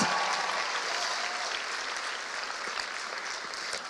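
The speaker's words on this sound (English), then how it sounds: "Let's give our band a big round of applause." Steady, dense applause from a school theatre audience after the student band's performance in a junior musical production, even and sustained throughout.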